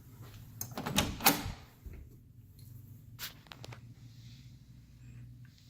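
A house door, leading into a master bathroom, opens with a cluster of knocks and clicks from the handle and latch, followed by a softer thump a couple of seconds later, then quiet room tone.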